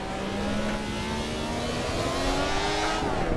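A Ferrari 312T Formula One engine screams around the Nürburgring in Assetto Corsa, a loud close-up howl with rising and falling pitch as the throttle is worked, with no talking.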